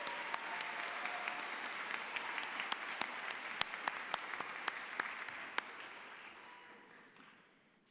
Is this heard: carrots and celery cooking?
no